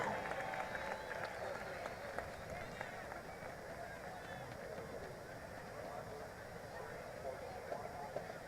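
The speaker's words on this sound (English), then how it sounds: "Let's give that young man a round of applause, folks." A crowd applauds at a high school football game, steady distant clapping and cheering spread through the stands and heard faintly throughout.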